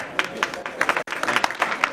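Applause from an audience at a public gathering in Mirzapur, a burst of clapping with irregular peaks and a brief cut near the middle, moderately loud and close.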